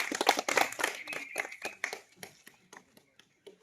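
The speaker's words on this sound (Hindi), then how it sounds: "बहुत बहुत तालियां" An audience at an award ceremony for selected UP Police candidates gives a burst of clapping that thins into scattered individual claps and fades out, with voices mixed in.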